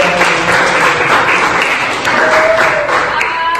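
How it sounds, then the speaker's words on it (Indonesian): A classroom of schoolchildren applauds together at a teacher's prompt during a morning lesson, a steady, dense wash of clapping that holds for several seconds with faint voices mixed in. "tepuk tangan buat kita semua"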